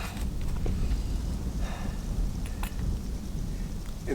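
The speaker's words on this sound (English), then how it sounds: "In the rain. Sprinkles now." Light rain patters on a canvas hot tent with an old wood stove, a dense, steady hiss of scattered drops close by, with a few sharper taps standing out against the constant wash.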